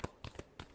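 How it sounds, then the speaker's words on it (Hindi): Tarot cards are shuffled in a quiet, brief riffle of a few soft papery flicks and taps, close but faint. "last shuffle"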